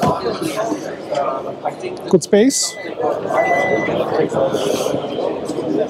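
A Hyundai IONIQ 6 saloon gives out a chirping alert beep, a brief electronic tone while it looks for the key, heard under someone talking close by with steady background noise.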